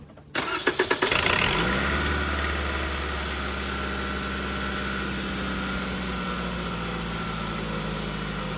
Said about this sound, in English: I'm going to test start the engine to make sure it works